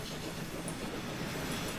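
A coal-carrying train runs in a transport-building video game, a steady rolling rumble with a faint clatter and occasional high squeal, heard alone at a constant moderate level.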